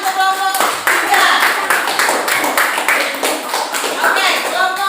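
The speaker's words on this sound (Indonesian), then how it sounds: "beri tepuk tangan untuk kelompok 3" A classroom of students claps for a presenting group, a dense, fairly close patter of hands that holds steady for several seconds, with a voice speaking briefly at the start.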